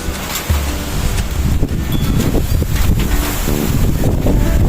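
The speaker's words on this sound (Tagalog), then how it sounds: "Ang malakas lang ay hangin." Strong, roaring typhoon wind buffets the microphone continuously, with heavy low rumbling gusts and no voices.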